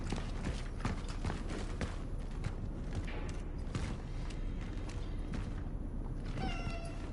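A domestic house cat meows amid the ambient soundscape of the video game Cronos: The New Dawn, with thuds and a busy, textured background throughout and a brief tonal call near the end.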